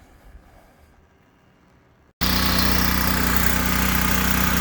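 A Ryobi generator, freshly tuned up with an oil change, sits quiet for about two seconds and then bursts into a loud, steady engine roar that runs on close by with no talking.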